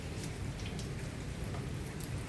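Steady rain patters on bitter gourd vines and jasmine plants in a home garden, a soft continuous hiss of drops striking leaves, faint and even throughout.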